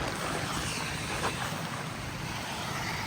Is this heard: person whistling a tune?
no